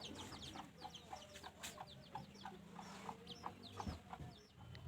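Chickens in a village yard cluck and chatter in quick, irregular bursts, quiet and somewhat distant, over a low background hum with no talking.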